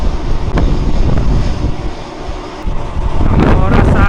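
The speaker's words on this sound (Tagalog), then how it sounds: "Grabe, sandstorm. Di makita yung araw." Strong wind roars and buffets against the microphone in loud gusts, a constant rushing blast with rumbling low-end surges.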